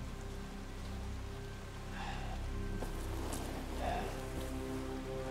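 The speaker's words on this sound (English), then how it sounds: "It's raining." Rain falls over an open field at night in Resident Evil 7, a faint steady patter and hiss with a few louder drops, quiet and continuous.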